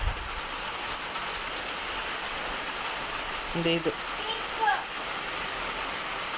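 Steady rain falls outdoors as a constant even hiss, with a person briefly speaking over it.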